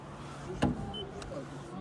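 Knuckles knock on the unpainted hood of a 2020 Volkswagen e-Golf: two short, dull taps about half a second apart, quiet and close, with no talk.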